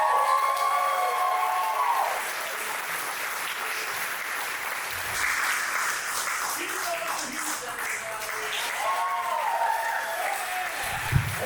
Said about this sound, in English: some noise right now for Jeremiah Coughlan